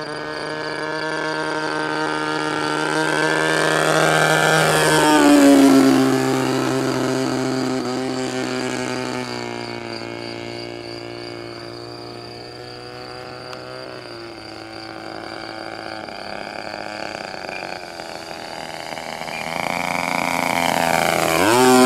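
A new, not fully run-in Turnigy TP31-T 31cc twin-cylinder gas engine on a large 2 m Hangar 9 Ultra Stick RC plane buzzes loudly and continuously, its pitch rising and falling with throttle changes and passes.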